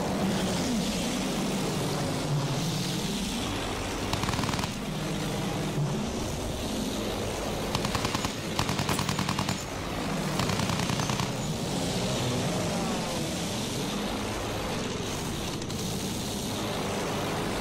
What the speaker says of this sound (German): feindliches Flugzeug, Jungs!